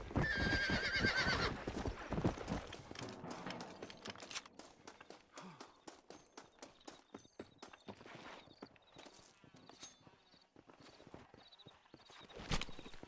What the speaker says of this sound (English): Um cavalo raro.